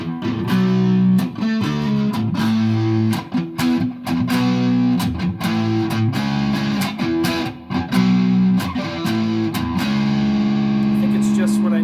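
Electric guitar played through a distortion effect using both pickups, apparently a 65-year-old Fender, giving a loud, continuous run of sustained crunchy chords and riffs with sharp picked attacks and no talking.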